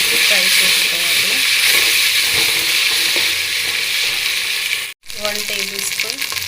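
Ginger garlic paste frying with onions and green chillies in a pan, a loud, steady sizzle throughout with stirring clatter, briefly dropping out before resuming.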